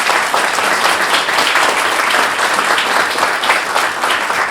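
Loud, dense applause from an audience after a talk on managing family businesses, a continuous wash of many hands clapping without pause.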